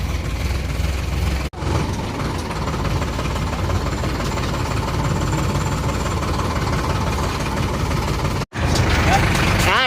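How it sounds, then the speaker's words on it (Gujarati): Tractor engine running close by in a village, a loud, steady low rumble with a knocking chug that briefly drops out twice, while people talk over it. "તમને જ સીધું ટ્રેક્ટરમાં ટ્રેક્ટર જોઈ લો ભાઈ"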